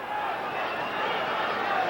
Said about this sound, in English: You're just hearing a big cheer.